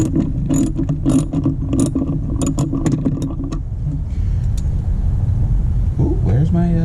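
Ratchet wrench clicking rapidly as it turns a bolt on a Mustang, close and loud in quick repeated bursts, followed by metallic tool clinks and a short whirring sound.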